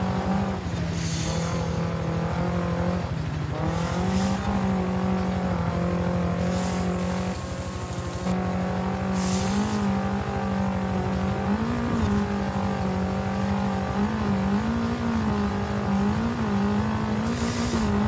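A Fiat Abarth 131 rally car engine drones loud and constant as the car drives through sand dunes in a racing video game. The pitch rises and falls as the car revs and shifts, with occasional bursts of hiss from the sand.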